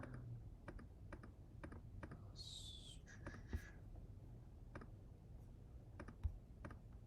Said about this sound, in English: I just type it out